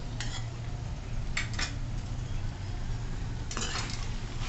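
Karatoli wild vegetable being mixed with coarse peanut powder in a metal pan. Soft scraping and a few sharp clinks of a spoon against the pan come in short bursts over a low background hum.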